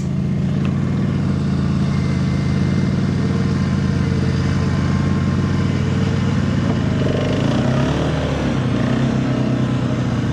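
A 4x4 in low range with diff lock and four-wheel drive engaged tows a stuck Etesia Attila mower out of a messy field; the engine drones loudly and steadily, shifting tone near the end, with no talk.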